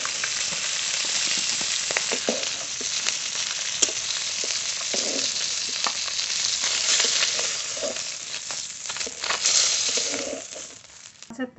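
Fish pieces fry lightly in hot oil for a potato-and-fish curry, giving a steady, dense sizzle with crackling spits and occasional clinks, close and continuous without speech.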